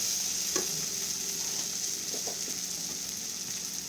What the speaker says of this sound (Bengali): গ্যাসের ফ্লেমটা একটু লো করে ওটসগুলো মিশিয়ে নেব।